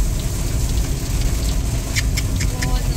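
Rain patters steadily over the road noise of a moving motorcycle, with a few sharper drops striking a nearby surface toward the end.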